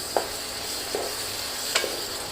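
Dates and tomato chutney ingredients with red chilli and amchur powder being mixed in a pan, a few soft scrapes and stirring taps over a steady low sizzle, close and quiet, no talking.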